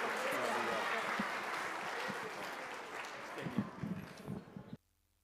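Audience applause at a political dialogue event as a city finance committee member is introduced, a fairly faint wash of clapping with murmuring voices that builds slightly before cutting off abruptly.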